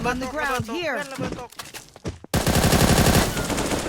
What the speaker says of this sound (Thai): เสียงปืนทางไหนวะ